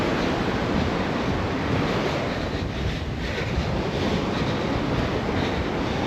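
Surf from high-tide surge on Puget Sound's Marrowstone Island North Beach, a continuous heavy roar of breaking waves blended with wind rumble, loud and unbroken throughout.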